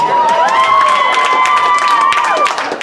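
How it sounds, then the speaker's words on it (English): A loud crowd of law students claps and cheers continuously at a law revue show, with whoops and shouts rising over steady applause throughout. "Those are 3Ls clapping."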